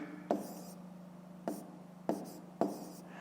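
Pen strokes on paper during a fifth-grade maths exercise come in four short, scratchy bursts, close and fairly quiet, with pauses between them.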